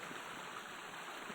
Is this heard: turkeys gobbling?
no